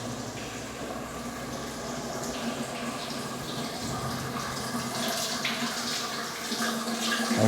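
Water runs steadily from a tap or hose at a floor epoxy job site, a continuous splashing rush that builds slightly louder toward the end, with no talk.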